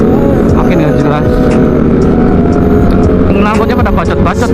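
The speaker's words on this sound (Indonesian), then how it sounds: "Knalpotnya pada bacot-bacot ya" Loud, rumbling engine noise from motorcycles with throaty exhausts, running continuously under a voice talking over it.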